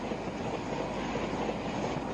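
A Duronto express running from Pune toward Howrah rumbles past in a continuous roar of wheels and carriages, steady and fairly loud with no voices over it.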